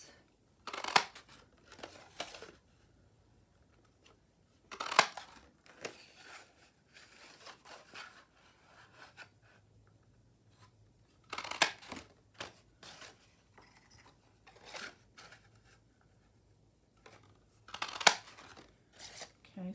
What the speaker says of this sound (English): I'm going to use the scalloped punch, that's this one, and I'm going to cut out four hearts.